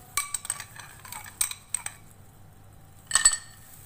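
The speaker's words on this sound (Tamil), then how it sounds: "இப்போ எடுத்து வச்சுருக்கிற ஐஸ் கட்டிகளை இதில் சேர்த்துக்கலாம்." Ice cubes drop into a glass for a non-alcoholic mojito, giving a few quick, bright clinks and rattles, with a short cluster near the end, faint and close.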